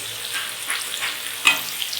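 Onions fry with shahi jeera in a pan, a moderate continuous sizzle with soft stirring scrapes and one sharper clatter partway through.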